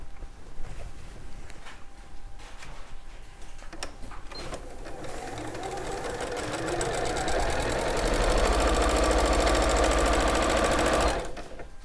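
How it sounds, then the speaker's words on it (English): A sewing machine top stitches a seam, starting with slow uneven stitching and then speeding into a fast steady whirring run close by before stopping abruptly. "top stitch using the quarter seam"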